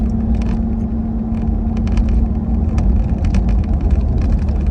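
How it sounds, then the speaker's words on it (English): A 2020 Ford Raptor with turbocharged engine drives over a slightly rough road, a steady loud low engine drone and road rumble filling the cabin with a faint constant hum throughout. "The turbos do their job in this vehicle for sure"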